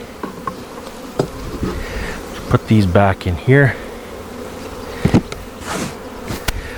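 Honey bees buzz faintly around hive frames during hive work, a low hum beneath irregular knocks and handling clatter, while a person speaks briefly in the middle.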